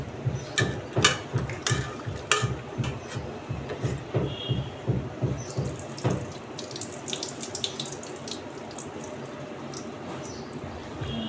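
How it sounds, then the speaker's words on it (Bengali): Water pours and splashes into a kitchen basin, with clattering knocks and bursts early on, then a steadier stream running alone, close and moderately loud. "জলটা ফেলে নিলাম, আরও আছে।"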